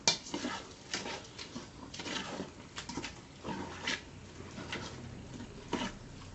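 A Thai curry sauce for Korat-style khanom jeen with chicken feet being stir-fried in a pan, repeated clanking scrapes of a utensil against the pan in an irregular rhythm, close and moderately loud, no talk over it.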